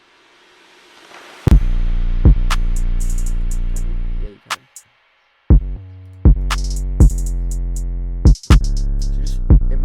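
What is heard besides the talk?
drum track of a beat played in Logic Pro X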